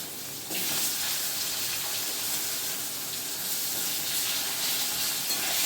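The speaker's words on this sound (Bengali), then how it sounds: "আমি আলুটা একটু ভালো করে নাড়াচাড়া করে একটু ভাজা ভাজা মতন করে নেব" Long-cut potato strips frying in oil with cumin seeds give a loud, steady broadband sizzle that jumps up after a brief quieter start and holds evenly, with no talking.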